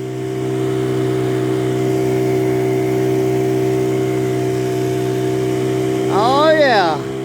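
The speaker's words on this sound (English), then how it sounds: "Motor is running good." An outboard boat motor runs steadily at part throttle on a stump-filled lake, a constant mid-pitched drone close by, with a brief rising whine near the end.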